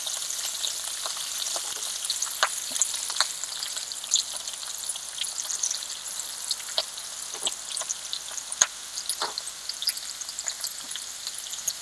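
Curry leaves fry in a pan with a steady, bright crackling sizzle and scattered sharp pops, close and continuous with no talk.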